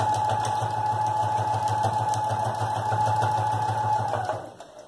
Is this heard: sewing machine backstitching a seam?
yes